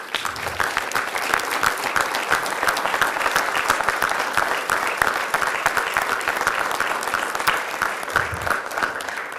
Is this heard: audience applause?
yes